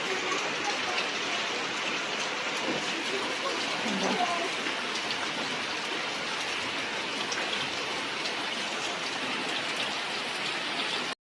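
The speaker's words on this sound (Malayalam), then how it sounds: "നല്ല മഴയാണ് ഗൈസ്." Heavy rain pours down steadily as a dense, continuous hiss, with a person speaking faintly beneath the downpour.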